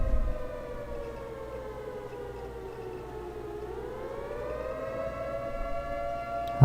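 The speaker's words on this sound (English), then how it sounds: "Today, the sirens still play." A civil defense siren wails steadily from a distance, its tone dipping and rising once as it winds, sounding alone with no talking until a sudden loud knock at the end.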